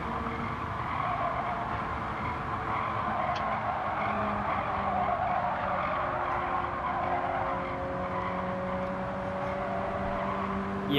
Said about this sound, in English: turn in more till you get to the point where the tires are really starting to squeal